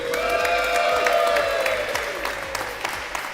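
Audience at a UK tiny whoop drone racing finals day breaks into loud, sustained applause with cheering, a dense crowd wash filling the whole moment.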